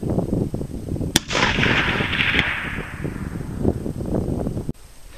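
A single sharp crack from a 30-06 rifle firing a Hornady 165 grain boat tail bullet at a target 350 yards away, followed by a rolling echo that fades over several seconds outdoors.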